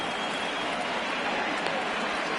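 Steady rain falls in a baseball video game broadcast, an even, continuous hiss of drops with no breaks and no voices over it.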